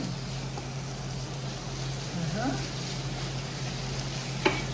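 Steady sizzling of food frying in a pan, with a few scraping stirs and a sharp clink near the end.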